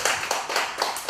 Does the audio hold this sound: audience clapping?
yes